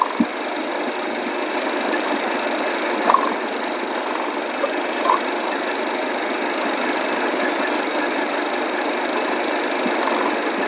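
A car engine runs steadily while driving on a rural village road in the morning, a continuous loud drone with wind rumble and no talk.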